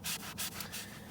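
Brisk back-and-forth scrubbing of interior car plastic with a melamine sponge in a crosshatch pattern, close and quiet, with a few rhythmic rubbing strokes.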